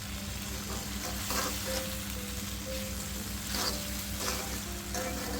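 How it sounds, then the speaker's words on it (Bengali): Spice and sauce mixture sautéing in a pan for cheesy pasta, giving a steady close sizzle and frying crackle with occasional stirring scrapes throughout, no voices. "সমস্ত উপকরণ খুব সুন্দর করে আমি কষিয়ে নিলাম।"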